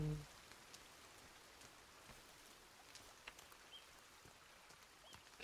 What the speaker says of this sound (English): Man, rain.